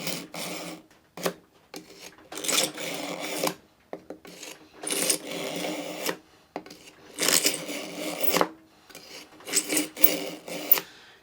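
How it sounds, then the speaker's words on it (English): A kitchen knife is pulled through a Chef's Choice pull-through sharpener, making repeated rasping, grinding strokes in a rhythmic series of close, fairly loud bursts separated by short gaps, with no talk. "every time I pull through, it gets a little bit less and less on that grinding sound"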